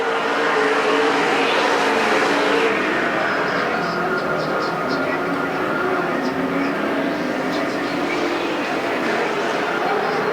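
Super stock race cars roar around the oval at Perris Auto Speedway, a dense continuous engine drone with cars surging past, under a track announcer's commentary.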